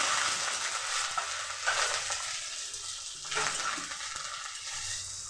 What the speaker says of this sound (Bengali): মশলাগুলোকে ভালো করে নেড়ে চেড়ে কষিয়ে নিব।